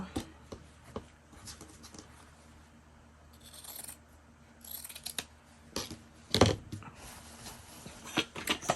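Journal cover material being cut with pinking shears: a few crisp snips and crunches scattered across a quiet room, with small clicks and rustles between cuts.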